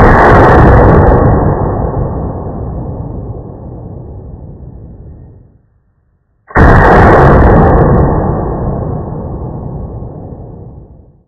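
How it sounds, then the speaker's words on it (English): Two heavy booming shots from an AR-15 rifle fitted with a KAK RF comp muzzle brake, played slowed down. Each blast is loud and long and decays over several seconds, with a short silence between the two. "Eric is going to try out the RF comp, and we're going to do this in slow mode"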